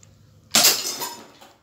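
A white BB fired from a Mamba P377 toy gun strikes a plate target, producing one sudden, close, bright crash of shattering that rings and scatters briefly before fading.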